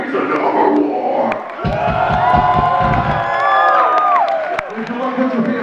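Loud concert crowd cheering and applauding for an opening band at a metal show, with whoops and yells rising over steady clapping, a burst of low rumbling thumps in the middle, and the noise fading toward the end.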